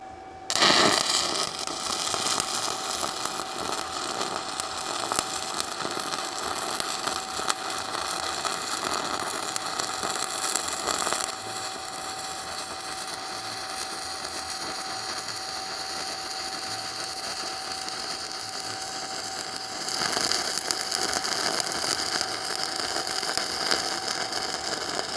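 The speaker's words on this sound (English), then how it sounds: "7018 is just God's gift to the stick welding world." Stick welding with a 1/8 inch Hobart 7018 rod at 125 amps, a steady crackling hiss that runs continuously and loudly, with a brief dip midway before the arc picks up again, no talking.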